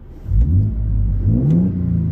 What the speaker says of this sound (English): Blip the throttle a couple times.